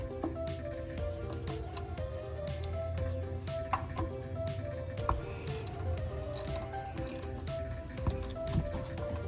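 A ratchet tightens a bolt during an oil change on a 2013 Jeep Patriot, giving quiet, close, repeated clicking and mechanical clatter in irregular bursts.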